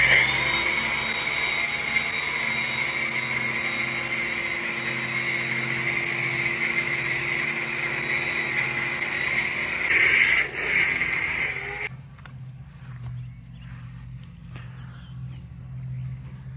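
A steady, loud motor roar like a pressure washer or vacuum runs for about twelve seconds while a 2022 Subaru WRX is cleaned at a car wash, then cuts off, leaving a lower hum with scattered clatter.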